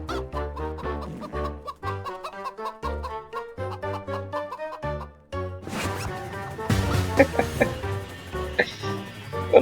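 A Roblox game chicken clucks in rapid repeated bursts, loud and close, with the rhythm growing busier and mixed with other game noises toward the end.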